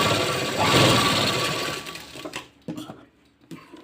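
A sewing machine stitches a sleeve design, its close whirring drone running loud for about two seconds before trailing off into a few sharp clicks and knocks as the fabric is handled.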